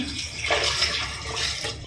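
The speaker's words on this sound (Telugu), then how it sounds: "1 గ్లాస్ వాటర్ పోస్తున్నా" Water pours in a steady splashing stream into a blender jar, fairly close and continuous throughout.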